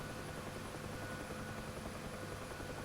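UH-1 Huey helicopter in the DCS World flight simulator, its rotor and turbine making a steady, dense droning roar that fills the whole clip at a constant low level, with no talking over it.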